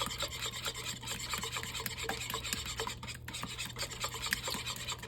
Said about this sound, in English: I'm gonna just whisk these together real quick.